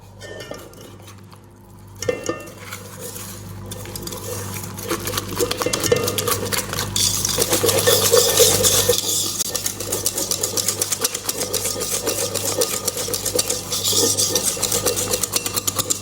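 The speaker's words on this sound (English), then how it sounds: "Whisk it until it is smooth." Cheesecake mixture is whisked until smooth, starting with quiet handling and then a fast, continuous rattling whir of beaters against the bowl, loud and close, holding steady with small rhythmic fluctuations.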